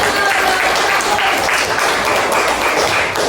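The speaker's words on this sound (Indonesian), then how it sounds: "Tepuk tangan untuk kelompok 1." A classroom of students applauds a group of classmates, loud and continuous dense clapping filling the room, close and even in level throughout the few seconds, with faint voices blended underneath.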